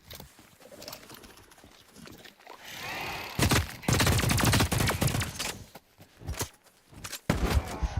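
Gunfire in a first-person shooter video game: quiet at first, then loud, rapid bursts of shots arriving in clustered volleys, with sharp single cracks near the end.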